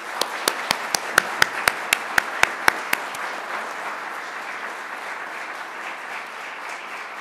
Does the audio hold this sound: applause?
yes